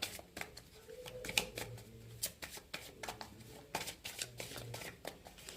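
Tarot cards being shuffled by hand, a run of quick papery riffles and taps close by, coming in uneven bursts with short pauses between them.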